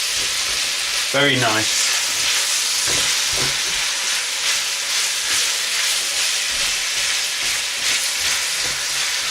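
Chicken thigh and zucchini sizzle in a stir-fry pan with a steady broadband frying hiss, close and continuous, while a person says a few words near the start.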